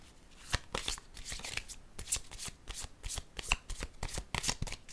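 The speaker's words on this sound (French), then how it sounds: "Je vais déposer une carte rose." Tarot cards being shuffled and laid down, with quick riffling bursts and soft slaps of cards close up, in an otherwise quiet setting without talk.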